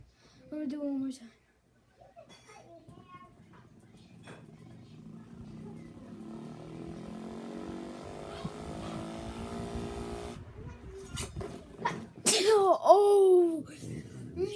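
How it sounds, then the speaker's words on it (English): A person sneezes after putting their nose into a running fan, a sharp burst near the end following steady fan-like noise and some talk earlier. "Yo, that made me sneeze."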